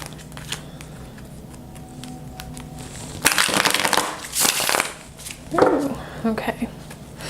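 Tarot cards are shuffled by hand in a couple of brisk, rustling bursts, close and fairly loud, after a quieter stretch of faint handling noise.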